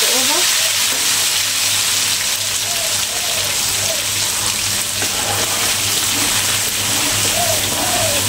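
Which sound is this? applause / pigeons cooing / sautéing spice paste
sautéing spice paste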